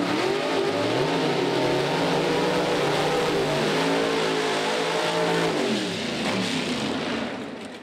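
Two Pro Stock drag racing cars with Allen competition engines roar loudly and continuously at a motorsports park, the revving pitch climbing and dipping in waves before tapering off near the end.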